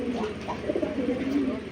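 A red checker racing pigeon coos close up in repeated soft, throaty rolls, with faint background noise underneath.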